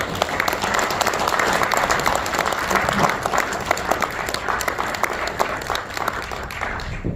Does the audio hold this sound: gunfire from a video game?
no